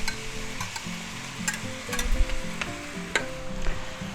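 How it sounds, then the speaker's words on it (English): Marinated pork goes back into a hot stir-fry pan with vegetables for sweet and sour pork, bringing a crackling sizzle punctuated by sharp clicks and scrapes of stirring, with a low background hum. "now we're going to add our marinated pork back in"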